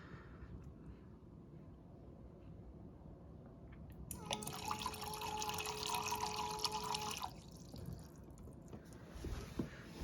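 A small automatic watering pump switches on for about three seconds, pushing water into potted plant soil with a steady trickling hum, faint and close, before cutting off to low room noise.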